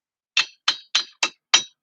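A hammer strikes metal on an old car five times in a steady rhythm, each blow a sharp, bright, close clank that decays quickly into silence.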